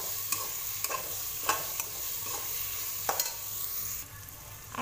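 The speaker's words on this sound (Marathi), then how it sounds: "कांदा, मिरची आणि शेंगादाणे हे सोबतच टाकले मी" Onion, green chilli and peanuts sauté together in a pan, with a soft continuous sizzle broken by sharp scrapes and clicks of a spatula stirring at irregular intervals.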